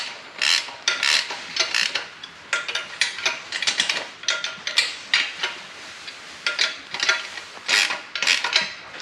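A ratchet clicks in quick repeated bursts while tightening bolts on a turbo manifold for a Nissan Skyline, close and crisp, with short pauses between strokes and no talk.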